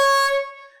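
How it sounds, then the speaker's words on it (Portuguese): An air horn blasts once in a podcast studio, a loud bright tone that fades quickly and stands alone without speech. "A primeira vez que a buzina soa aqui na frente das câmeras."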